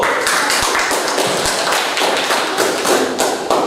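A school class claps hands together for a student group, loud, close, rapid clapping with dense overlapping slaps and a few heavier thuds.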